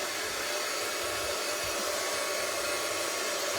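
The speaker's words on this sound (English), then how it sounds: "with your embossing gun, you gotta heat it up a little bit" A heat embossing gun blows a steady, loud, even whoosh of hot air while melting embossing powder on a mixed media craft piece, constant throughout with no talking.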